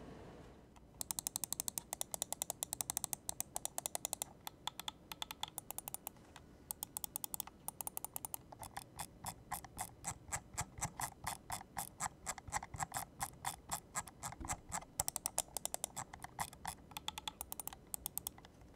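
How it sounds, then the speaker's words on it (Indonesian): Button clicks from a Razer Orochi V2 wireless gaming mouse, pressed in rapid, uneven bursts of sharp, close ticks that continue for most of the stretch with brief pauses, no talking. "Sekarang buat sound test mouse ini kurang lebih kayak begini."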